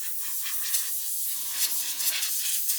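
A steady, close hiss of compressed air blowing continuously from an airbrush, with slight fluctuations in strength over a few seconds.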